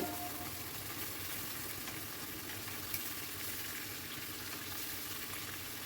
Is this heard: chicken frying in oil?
yes